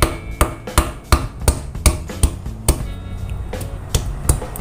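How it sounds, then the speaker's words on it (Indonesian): Ginger pounded and bruised with a hard implement for an Indonesian clear vegetable soup with tilapia, about a dozen sharp thuds in a steady, close, loud rhythm. "Kemudian ini jahenya cukup memarkan saja ya, tidak usah sampai lembut"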